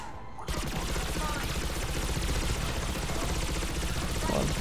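Rapid, continuous turret gunfire in Mass Effect 3 on Omega starts abruptly after a brief quiet moment, then hammers on loud and steady as a dense stream of shots with no pause.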